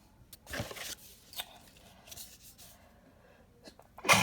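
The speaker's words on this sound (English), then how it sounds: "I just sneezed" A single sharp sneeze at close range indoors during an unboxing of a Cloth & Paper planner subscription, with a smaller breathy burst before it and quiet rustling between.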